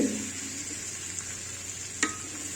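Bitter gourd frying in a pan on the stove over low heat, a steady sizzle with a soft stir and a brief clatter near the end, no talk.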